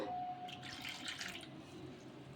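A steady stream of a cup of water pours and splashes into a batter of wheat rava, sago and curd, continuous and close, with no talking.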